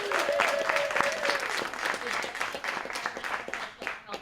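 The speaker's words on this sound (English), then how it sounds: "We are still applauding." Audience applause for an award winner at a journalism symposium, steady dense clapping throughout with a voice speaking over it near the start.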